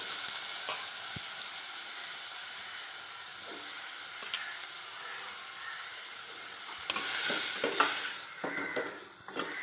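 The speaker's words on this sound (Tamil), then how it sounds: "பாருங்கள், வாழைத்தண்டு போட்டு நல்லா வணக்கலாங்க" Chopped banana stem sautés with onion and tomato in a pan, giving a steady close sizzle with occasional stirring scrapes that get busier toward the end.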